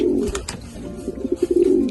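Racer pigeons coo softly nearby in low, throaty, repeated bursts that quicken toward the end.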